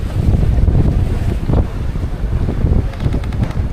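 Boat engine drone and rushing water with heavy wind buffeting the microphone as one vessel tows another at sea, a continuous loud rumble with gusty surges.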